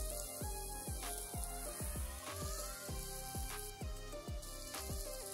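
Beef lung frying with spices in a pan, a constant bright sizzle broken by repeated scraping strokes of a spoon stirring the pieces at a steady pace, close and fairly loud.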